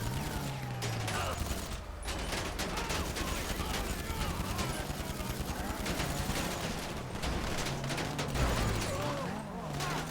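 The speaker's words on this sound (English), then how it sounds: "we're going to take a couple minutes here and shoot everybody up" Dense, sustained automatic gunfire from a GTA V Online mission fills the scene, rapid overlapping shots with a low engine drone beneath, loud and continuous throughout.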